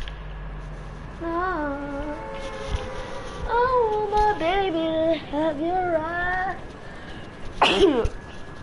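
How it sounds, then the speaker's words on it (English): A character in the Grand Theft Auto game Lamar, played on PS4, lets out one sharp, loud sneeze right after a stretch of a player talking. "Lamar, why you sneezed on me?"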